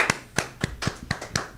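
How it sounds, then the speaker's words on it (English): Audience applause closing a TV show, with sharp, separate claps at a steady uneven rhythm, fairly near and moderately loud, alone without talk. "another round of applause as we go out with Artemis and Vince"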